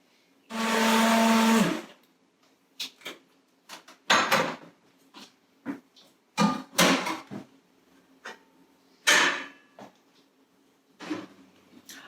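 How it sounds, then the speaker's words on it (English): A stick blender whirs loudly for about a second blending sweet potato and red lentil soup, then stops, followed by a series of clinks, knocks and scraping kitchen sounds. "blend it with a stick blender."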